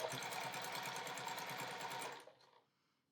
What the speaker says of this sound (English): And sew a 1/4 inch seam across there.